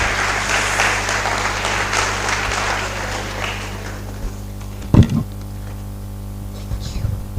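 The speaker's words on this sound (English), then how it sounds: "Please give him a round of applause." Audience at a college of engineering freshmen orientation applauding a professor, with steady dense clapping that fades after about four seconds into room hum and a few faint noises.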